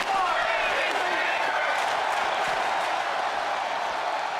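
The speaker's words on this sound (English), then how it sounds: "I'm not sure exactly what the crowd was chanting there" Crowd noise at a live VHW wrestling show, a dense, steady roar of many voices that sounds like chanting, loud and continuous throughout with no clear single speaker.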